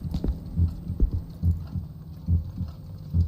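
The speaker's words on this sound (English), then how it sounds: "Why is my heart beating? I don't like my heart beating." A heartbeat sound effect in the horror video game Song of Horror throbs as paired low thumps, about two beats per second, steady and close, with no talk.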